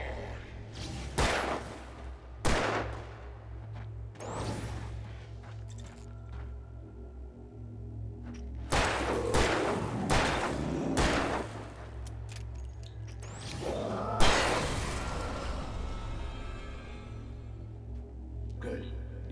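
Gunshots in Alan Wake Remastered ring out as a few sharp, loud bangs spread irregularly across the stretch, some in quick pairs, with voices and ambient game sound between them.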